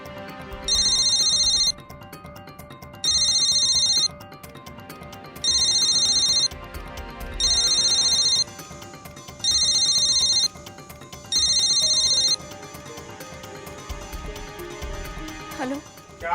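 A telephone rings in a repeating pattern of six bright electronic bursts with short gaps between them, sounding over background music and a voice.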